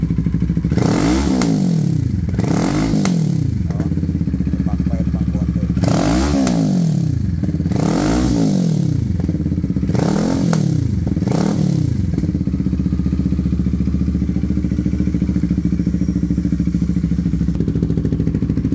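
A Brixton 650 Bobber motorcycle with a newly fitted exhaust and an ECU still adjusting runs loud and close, blipped in a series of repeated revs before settling into a steady, throbbing idle.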